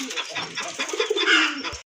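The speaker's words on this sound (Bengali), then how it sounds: "এক জোড়া গোল্লা কবুতর, পুরানো জাতের গোল্লা কবুতর।" A pair of old-breed gola pigeons coo close by, a soft rolling, throaty call that rises and fades over a couple of seconds.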